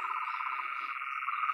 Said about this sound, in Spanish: Están bravas las ranas.